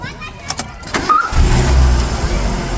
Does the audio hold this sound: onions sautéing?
no